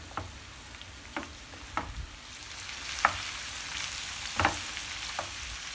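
Beef liver and onions fry in a pan with a steady, close sizzle, punctuated by a handful of sharp spatula scrapes and stirring clicks spread across the stretch; no voices.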